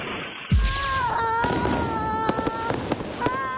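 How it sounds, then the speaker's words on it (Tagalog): Fireworks in a burning fireworks store explode with a sharp bang, followed by whistling and crackling from more fireworks bursting nearby. "Nagsiliparan sa kalangitan ang mga firework."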